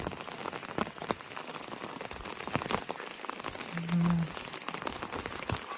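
Heavy rain falls steadily on a rooftop terrace, a dense continuous patter of drops hitting hard surfaces, close and even throughout, with no talking.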